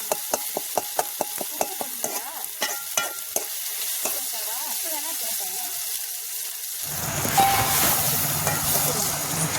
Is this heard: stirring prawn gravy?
yes